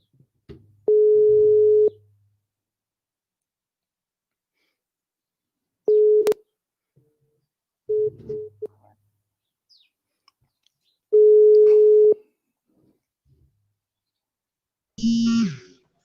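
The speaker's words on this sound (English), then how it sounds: "let me try calling you from the phone" A telephone line gives steady electronic tones while a call is placed, with about four separate tone bursts, each lasting roughly a second, spaced across long silent gaps, plus a brief burst of clicks near the end.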